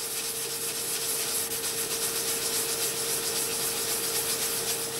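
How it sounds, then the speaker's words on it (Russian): Soft cloth rubbed steadily back and forth to give a final polish to a handmade ace-of-hearts talisman, making a continuous close, even rubbing hiss with no pauses. "финишную полировку я произвожу на вот таком отрезке мягкой ткани"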